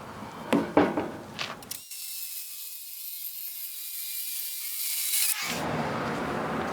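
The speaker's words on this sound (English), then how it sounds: "I drill it out to like, it's just a hair over 5/16, which thins it out" A drill bores out a metal sleeve to just over 5/16 inch with a steady, high grinding whine for several seconds, bracketed by clattering and handling noise.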